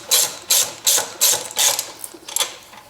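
A ratchet clicks through about six quick strokes, each a crisp, close burst of pawl clicks in an even rhythm, while tightening a frame bolt on a Honda Ruckus scooter.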